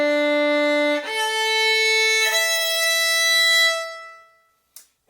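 Violin strings sustained with a bow, a clear steady tone that shifts to a second pitch partway through and holds for about four seconds before stopping, followed by a brief rustle.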